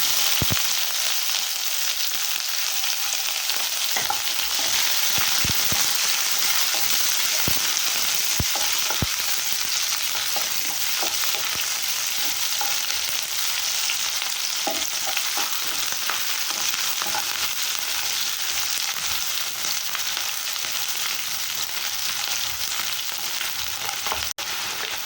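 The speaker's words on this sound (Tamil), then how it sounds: "இந்த மிளகு கொத்தமல்லி மட்டும்தான் வறுத்து சேர்த்துக்க போகிறேன்" Pepper and coriander seeds frying in a pan for a cluster bean gravy, a steady close sizzle with scattered sharp crackles and pops throughout, no voices.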